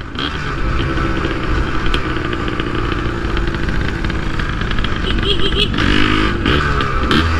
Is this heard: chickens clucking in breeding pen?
no